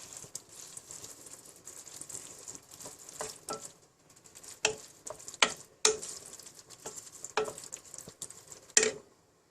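Tomato purée being stirred in a cooking pot for a bolognese sauce, heard as scattered scraping and wet clacking strokes with soft sizzle between them, close and fairly quiet, no voices.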